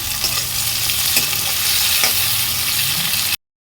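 Tomato tempering sizzling loudly in a pan with fish roe, a dense continuous frying hiss with light stirring taps, cutting off abruptly at the end.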